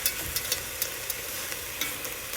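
Vegetables being stirred and raked across the bottom of a pot for a pantry vegetable soup, with a steady sizzle underneath and several light scraping strokes at an even pace, close and fairly quiet.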